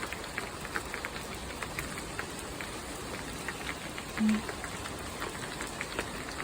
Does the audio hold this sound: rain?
yes